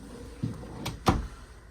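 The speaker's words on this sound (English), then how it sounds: "3 pull-out drawers. Pull out this middle one, but they're all going to be just like that." A pull-out drawer in a 2023 Surveyor 202RBLE travel trailer slides with a soft rumble, then shuts with two quick knocks, the second louder, close by.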